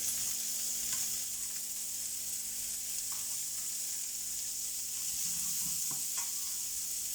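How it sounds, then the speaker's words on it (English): Food sears in a pan over medium heat, a steady, moderately quiet hiss and sizzle with a few soft stirring clicks, no one speaking. "Just sort of sear them over a medium heat for 3 to 5 minutes until they're done."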